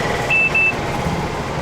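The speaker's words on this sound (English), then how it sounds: "Good beeping. Unlocking bike." A Yulu rental bike beeps while unlocking, giving two short electronic tones close together over faint street background.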